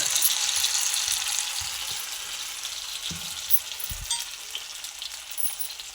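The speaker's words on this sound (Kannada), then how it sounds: "ಹಿಂಗೆ ಒಂದೊಂದೇ ಹಾಕಿ ನೀಟಾಗಿ ಡೀಪ್ ಫ್ರೈ ಮಾಡ್ಕೋಬೇಕಾಗುತ್ತೆ, ಸ್ವಲ್ಪ ಕ್ರಿಸ್ಪಿನೆಸ್ ಬರೋ ತನಕ" Pieces being deep fried one at a time in a modest amount of oil, a steady bright bubbling sizzle running throughout, close, with a few soft low knocks from the pan.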